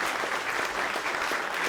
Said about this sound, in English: Massive round of applause, please, for our fantastic song.